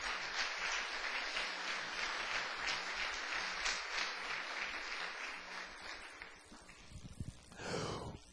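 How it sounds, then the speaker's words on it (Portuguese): A church congregation applauding, a steady wash of clapping at moderate distance that thins out toward the end, followed by brief rustling and a faint voice. "Então dá uma salva de palmas para o Senhor Jesus."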